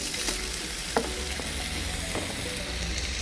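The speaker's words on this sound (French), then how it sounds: "Dans une poêle chauffée avec de l'huile, placez les lardons." Lardons frying in a hot pan with oil give a steady close sizzle, broadband and continuous, with a few faint clicks and stirring scrapes, and no talking.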